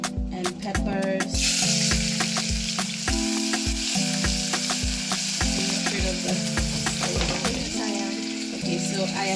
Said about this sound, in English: So I have some oil heated, and I'm going to saute some onions and peppers.